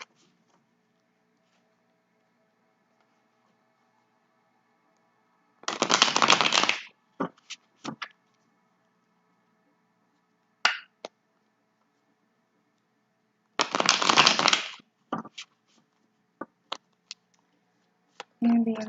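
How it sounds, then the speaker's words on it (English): Two bursts of tarot cards being riffle-shuffled, each about a second long, with light taps and handling clicks between them in a quiet room. "They always interrupt my shuffle and tell me to shuffle again."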